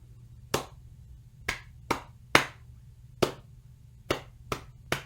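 A repeated rhythm pattern played as sharp, close claps at irregular spacing, eight crisp hits over five seconds against a faint low hum, with nothing else sounding.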